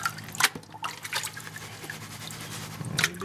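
Water sloshing over sand and gravel in a gold pan being shaken, with wet splashes and swishes at irregular intervals, a louder slosh early and another near the end.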